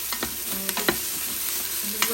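Onion sautéing in an Instant Pot alongside carrots, celery, potatoes and garlic: a soft steady sizzle broken by a few sharp scraping stirs, close and quiet, with no talking.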